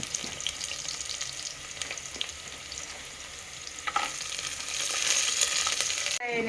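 Cashews frying in a hot bagara tempering for red lentil khichdi, a continuous close hiss and crackle with scattered small pops and occasional stirring clinks, growing louder toward the end.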